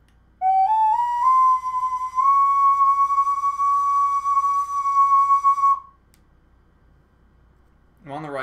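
A clay ocarina plays a single pure, breathy tone that slides up and holds steadily for several seconds, then stops; a voice begins at the end.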